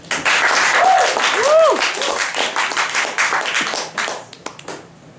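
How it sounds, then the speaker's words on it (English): A crowd gives a loud, dense round of applause for a performer named Margaret, with sharp rising whistles early on. The clapping thins into scattered claps toward the end. "So do a round of applause to Margaret"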